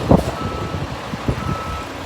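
Reversing beeps from a vehicle backing out in street traffic, a faint repeating beep over a low engine rumble and road noise.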